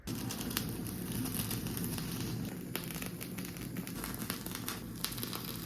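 Fatty otoro tuna skin is seared for nigiri, producing a steady close crackling hiss with scattered sharp pops and snaps throughout.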